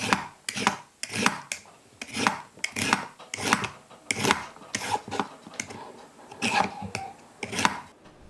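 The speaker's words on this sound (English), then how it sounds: "I have peeled and chopped the carrots." Carrots chopped with a knife on a board in a home kitchen, a rhythmic series of short scraping, rubbing strokes, about a dozen close, moderately loud cuts with brief gaps between them.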